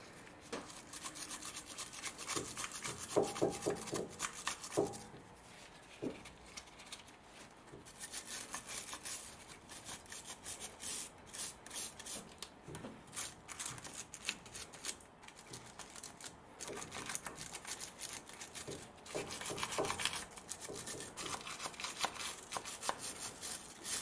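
A wire brush scrubbing the front brake caliper of a 2008 VW Touran 2.0 TDI, producing continuous close, gritty rasping strokes in an uneven back-and-forth rhythm with brief pauses.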